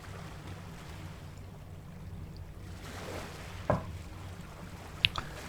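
Sea water sloshes and laps against a boat hull in a crab fishing video game on a fairly calm night, a steady low wash with a couple of brief knocks and splashes near the end.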